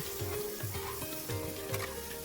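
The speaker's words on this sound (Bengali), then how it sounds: "অল্প করে নুন অল্প করে হলুদ গুঁড়ো দিয়ে দেব তারপর ভালোভাবে মিক্স করে নেব" Parboiled potatoes being stirred in a frying pan with salt and turmeric powder, a steady sizzle of frying with repeated scraping strokes of the stirring spoon, close and continuous with no talking.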